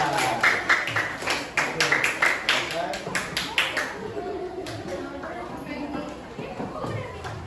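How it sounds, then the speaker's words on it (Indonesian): Classroom applause for a student group after their presentation, a burst of several people clapping close by that fades into murmuring chatter and voices. "aplaus dulu untuk kelompok 2"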